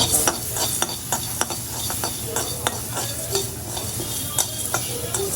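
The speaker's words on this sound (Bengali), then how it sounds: "আগে গোলমরিচগুলো ভাজবো ধুয়ে নিলাম আলাদা করে ভাজবো সাদাটাও আলাদা কালাটা" Black and white peppercorns dry-frying in a pan, stirred with a utensil: a soft background hiss broken by frequent sharp scrapes and light clinks in an irregular rhythm.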